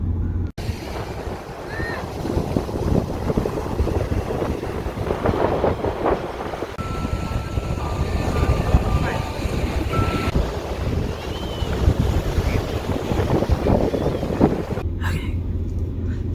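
Wind gusts over a beach with ocean waves rolling in, a constant, loud rushing roar with heavy wind noise hitting the microphone, continuing steadily throughout.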